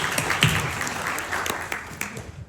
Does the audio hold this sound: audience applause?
yes